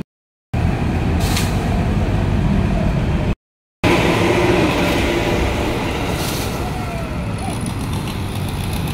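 A KRL commuter train rumbles past nearby with a steady, heavy roar, and faint screeches come from the wheels on the rails.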